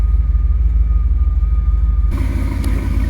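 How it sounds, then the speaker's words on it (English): A 1947 Cadillac resto-mod's engine runs with a steady, close low rumble, then its tone shifts partway through as it restarts and settles back into a smooth idle. "The car shuts down and restarts easily"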